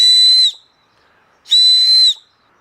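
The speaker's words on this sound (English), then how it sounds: "If you are not able to create such a loud whistle sound, you have to play with the distance and with the angle of the small part." Two loud, shrill blasts come from a wooden signal whistle carved with a Victorinox Swiss Army Knife. Each steady, piercing tone lasts about half a second, with a short silence between them.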